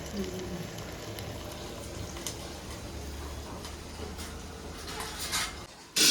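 Sugar syrup for khaman simmering in a pot, a steady low bubbling and hissing that runs throughout with faint clinks, ending in a brief louder clatter.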